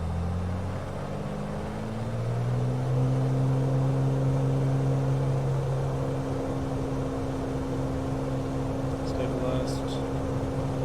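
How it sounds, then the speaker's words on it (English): An aircraft engine spins up in Flight Simulator, a steady whirring tone that rises in pitch and settles into a constant hum, heard alone with no talk. "Spinning up the engine."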